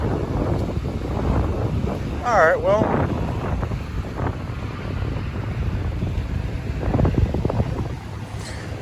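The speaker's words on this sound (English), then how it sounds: "a little bit windy out" Wind gusts buffet the microphone outdoors beside a 2001 Toyota Tacoma, a steady rushing roar under a man's short spoken remarks.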